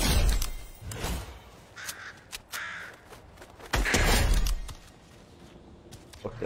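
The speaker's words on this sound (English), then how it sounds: "That bird. Any more birds?" Several loud, harsh caws from birds in Apex Legends, coming in irregular bursts among thuds and game noises.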